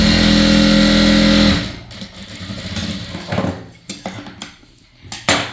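A sewing machine stitches a chudithar pant with a steady, loud motor whir for about a second and a half, then stops, leaving scattered light clicks and handling noises of the fabric and machine.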